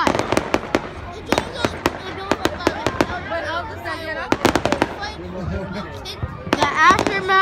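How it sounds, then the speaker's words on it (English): Fourth of July fireworks burst in a rapid string of sharp, loud cracks and bangs, dozens of reports spaced unevenly over several seconds, with crowd chatter and voices running underneath. "The aftermath of your like 50 explosions of fireworks in color."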